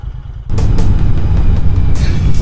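A passing car's engine rumbles loudly on a Mumbai street, starting abruptly and holding a rough, throaty drone for about two seconds, close by with no talking over it.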